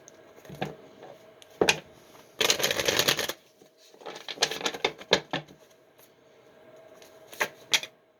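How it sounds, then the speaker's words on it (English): Tarot cards being shuffled in several quick riffles and bursts, close and fairly quiet, with pauses and soft taps between. "We'll do one more shuffle."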